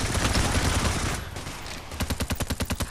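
Sentry turret in the game Payday: The Heist firing loud automatic bursts, a dense roar of shots easing off and then a rapid, evenly spaced string of rounds at the end.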